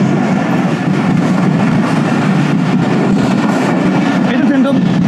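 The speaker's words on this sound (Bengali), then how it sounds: "এটা কি রাজশাহীর ট্রেন?" Old, battered passenger train bound for Rajshahi rumbling past up close, a steady loud roar of wheels and carriages that holds through the whole stretch while people talk nearby.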